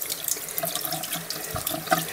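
A tap runs into a sink as a paint brush is rinsed under it, giving a steady close splashing flow with small gurgles and drips and no talking.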